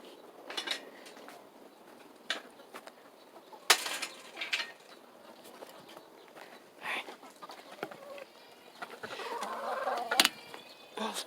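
Chickens clucking in short, scattered bursts as they are fed measured portions, with clattering scoops and containers in between; the sounds are close and irregular.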